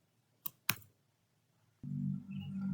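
Two sharp, close key clicks on a computer keyboard while a value is entered at a program's input prompt, followed by a steady low hum in a quiet room.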